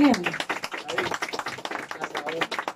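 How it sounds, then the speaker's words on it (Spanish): At a youth mariachi celebration, an audience applauds for a performer named Ana Valentina: a dense patter of clapping runs continuously, with voices talking and calling out over it. "fuerte el aplauso que se escuche para Ana Valentina"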